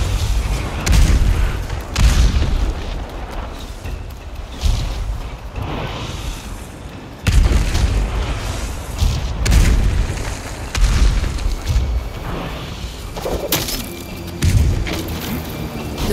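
Heavy booming explosions and bursts of fire from the Ghost of Tsushima video game repeat every few seconds in a loud, dense battle din, each deep blast followed by rumbling noise and no clear speech.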